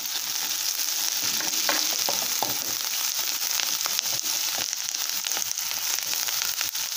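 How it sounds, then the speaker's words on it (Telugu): Onions, green chillies and curry leaves fry in hot oil for a boti curry, giving a loud, dense, continuous sizzle close up, dotted with sharp crackles and pops and occasional stirring. "ఆనియన్స్ పచ్చిమిర్చి అన్ని బాగా వేగిపోయాయి కదండి"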